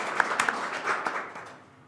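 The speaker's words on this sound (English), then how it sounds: "give them a round of applause." A conference audience at a global executive forum applauds board members, a brief, fairly faint patter of clapping that fades out within two seconds.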